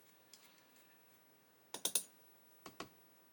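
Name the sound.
M1.7 tap cutting a thread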